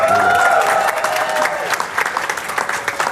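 Applause from a conference audience rises loudly, then thins into scattered claps, with a voice and crowd murmur mixed in toward the end.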